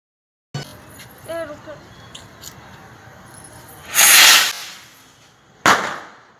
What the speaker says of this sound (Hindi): ये मैं जा रहा हूँ पटाखा छोड़ने।